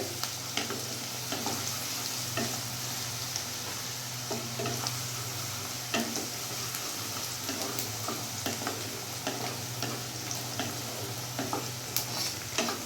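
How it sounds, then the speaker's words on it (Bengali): Onions frying in hot oil, a steady low sizzle with occasional scraping stirs of a utensil, close up and without voices. "কাঁচা পেঁয়াজটা আমি ততক্ষণ ভাজবো যতক্ষণ কাঁচা গন্ধটা চলে যাবে"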